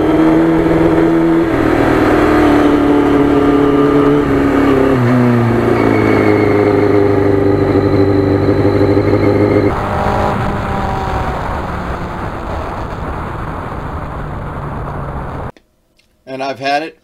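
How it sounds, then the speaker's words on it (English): A restored 1991 Yamaha FZR 1000 motorcycle runs loud and close, its engine shifting in pitch early on before holding a steady idle; a voice talks over it, and it cuts out briefly near the end. "I even love the way this bike sounds when it idles."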